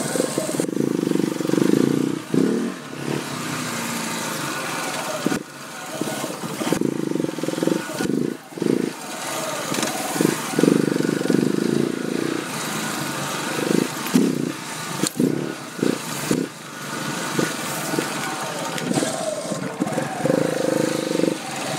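KTM 690 Enduro single-cylinder dirt bike ridden carefully downhill off-road, a steady close engine drone with repeated throttle blips and dips, wind noise and clatter over rough ground, no talk.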